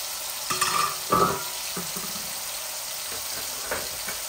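Fish fries in a pan on a gas stove with a steady, hissing sizzle throughout, broken by a few louder clinks and scrapes from stirring near the start.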